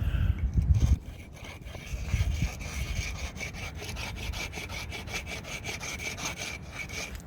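A cheap aftermarket brake pad for a Toyota Hilux with IFS 4x4 front brakes is rubbed down to fit, making steady back-and-forth rasping strokes, loudest in the first second, then a continuous scraping rhythm close by.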